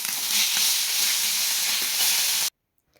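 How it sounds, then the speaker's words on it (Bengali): Marinated katla fish frying in hot oil in a pan on the stove, a loud steady sizzling hiss that holds for about two and a half seconds and then cuts off abruptly into silence. "এবার ম্যারিনেট করে রাখা মাছটা আমি ভেজে নিব।"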